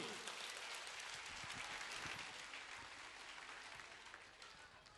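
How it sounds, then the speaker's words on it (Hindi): Audience applause after a school annual function performance: a brief, even wash of many people clapping, fairly faint and steady, fading slightly toward the end. "इस अद्भुत प्रदर्शन के लिए एक बार जोरदार ताली।"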